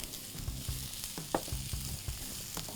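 Grated carrot and capsicum fry in a hot pan, giving a continuous close sizzle with occasional stirring scrapes and soft clatters.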